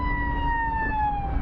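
An ambulance siren wails steadily on the road, heard from a moving vehicle among passing traffic, loud and continuous with a slowly falling pitch over road rumble.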